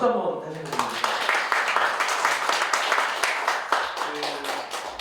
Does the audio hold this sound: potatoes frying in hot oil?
no